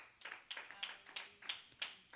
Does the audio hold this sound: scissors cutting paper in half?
no